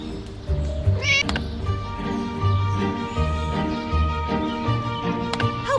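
A cartoon cat meows in the Scary Teacher video game, high wavering calls over steady game music and rhythmic background effects, with no talking.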